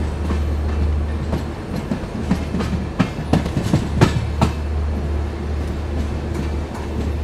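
The Naharlagun Shatabdi Express switches onto a loop line, with a constant low rumble under a run of sharp clickety-clack wheel strikes over the rail joints and points, heard from on board.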